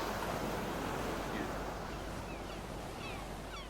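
Ocean surf in Life Is Strange Remastered rolls as a steady, broad wash of waves with a windy hiss, even and fairly loud across the whole stretch with no talk.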